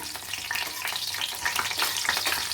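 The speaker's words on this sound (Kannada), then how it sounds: "ಇದು ಗೋಲ್ಡನ್ ಕಲರ್ ಆಗೋವರೆಗೂ ಸ್ವಲ್ಪ ಇದು ಹುರ್ಕೊಳ್ಳೋಣಂತೆ." Cashews frying in hot oil for a tempering while making restaurant-style shahi paneer, a steady close sizzle with stirring scrapes and no talk.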